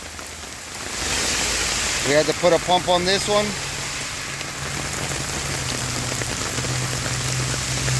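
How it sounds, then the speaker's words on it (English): Steady rain pours down outdoors during a Florida storm, a constant hiss on hard surfaces, while someone speaks briefly over it. "As it's raining."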